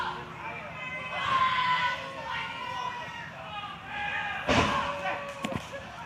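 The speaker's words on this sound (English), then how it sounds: "Freya, though, hard into the turnbuckle." A wrestler slammed hard into the ring turnbuckle during a wrestling event at an arena: a heavy thud under crowd noise and a commentator's voice, with a sharper impact and rattle near the end.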